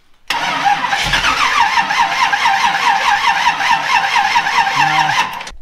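The engine of a rat rod wrecker cranks steadily on its first startup, a loud, close, rhythmic starter churn lasting about five seconds without firing up, then cutting off.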